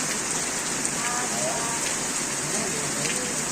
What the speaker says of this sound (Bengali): বৃষ্টিটা এবার একটু কমলো,